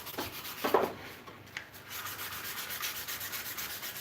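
Sandpaper rubbing steadily over an ash wood hammer handle, giving a continuous close, rasping scrape with slight surges in rhythm and no voices.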